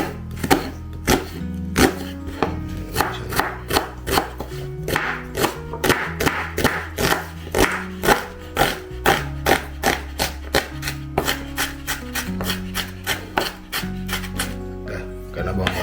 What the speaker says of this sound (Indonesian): karena bawang bombay udah ada garis-garisnya, jadi tinggal slice saja.